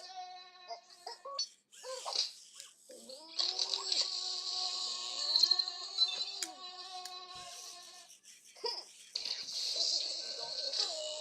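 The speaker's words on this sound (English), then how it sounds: "Mosquito trouble." An Eilik robot plays a mosquito buzzing sound effect: high, whiny tonal buzzes that swoop and waver in bursts over several seconds, with short pauses and cute electronic chirps between them.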